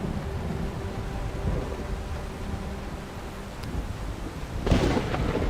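Continuous low rumbling of a thunderstorm with a steady roar of rain or wind, building into a louder crack-like burst of thunder near the end; no voices.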